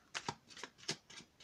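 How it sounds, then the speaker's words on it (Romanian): Tarot cards shuffled in short riffling bursts, about five quick ruffles across a second and a half, close and fairly quiet with no voices. "Tai cărțile"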